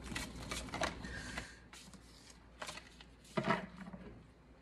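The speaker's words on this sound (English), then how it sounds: "These cards are so big, I can't even shuffle them right." Oversized cards are shuffled in several quick riffling bursts, close and fairly quiet, with short pauses between them.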